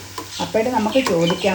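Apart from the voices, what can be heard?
country chicken roasting in coconut oil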